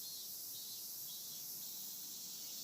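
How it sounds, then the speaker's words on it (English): Cicadas drone in a dense, continuous high-pitched buzz that fills a quiet anime scene from Evangelion, steady and loud with no other sounds. "constantly filling quiet moments with cicada noises"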